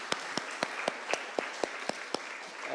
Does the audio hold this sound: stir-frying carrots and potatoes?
no